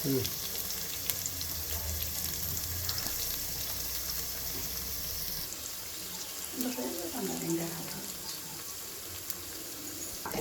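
Onion and ground paste sauté in a pan for bisi bele bath, a continuous close sizzle and frying hiss with stirring, and a voice speaking over it in places.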